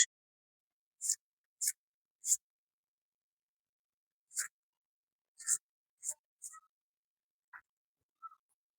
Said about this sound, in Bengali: পেঁয়াজ কাটতেছো